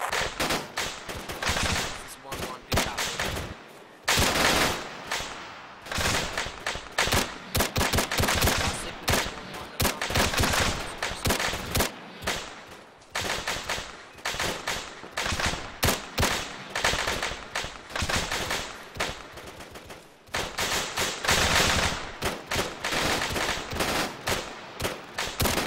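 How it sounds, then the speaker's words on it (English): Dense, sustained machine-gun and rifle fire from an Arma 3 firefight, rapid bursts overlapping almost continuously with brief lulls, loud and close throughout. "Maintain suppressing fire in the downward."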